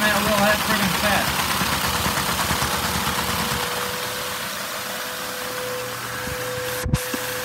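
A small Lego inline-four vacuum engine driving a 10-speed transmission runs steadily with a whirring drone, then its pitch drops and settles partway through, ending with a brief click.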